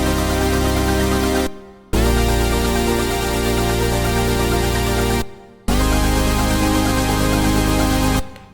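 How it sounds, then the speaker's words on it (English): Several layered synthesizers playing together in an electronic track: a dense, loud, sustained wall of tones that drops out briefly twice, each time returning with a punchy restart. "So those synthesizers all together are going to sound like this"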